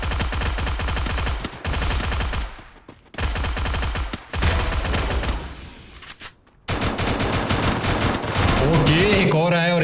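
Rapid automatic gunfire in the Free Fire video game, dense bursts of rattling shots broken by short gaps, loud and close, with speech underneath.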